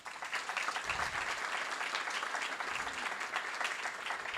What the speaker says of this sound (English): Please extend a round of applause for all state and local officials